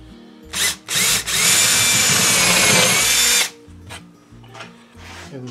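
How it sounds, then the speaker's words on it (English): A power drill drilling countersink holes spins up in two quick bursts, then runs steadily for a couple of seconds, followed by a few short trigger pulls, close and loud. "I'm going to drill a couple of countersink holes."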